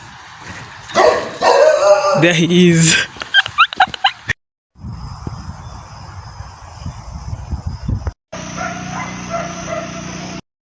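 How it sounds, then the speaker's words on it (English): A neighbor's dog barks and yips in short, quick bursts, fairly close, mixed with people talking; the sound cuts off abruptly between segments. "Wait till you hear about our neighbor's dog"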